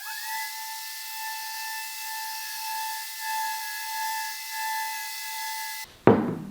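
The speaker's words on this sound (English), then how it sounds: "I'm just going to sand the top lightly with 120 grit." A random orbital sander with 120-grit paper runs over a wooden workbench top, a steady tonal whine with a broad hiss that holds evenly, then cuts off near the end with a brief knock.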